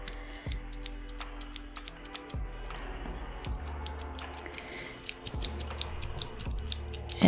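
Clicks of a Zebra 0.7 mm mechanical pencil, a series of light, close, irregular ticks repeated several times in a quiet room with no talking.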